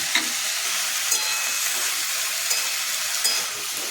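Potatoes sizzle and crackle steadily in a hot pan, a constant bright frying hiss with occasional soft pops and stirring scrapes.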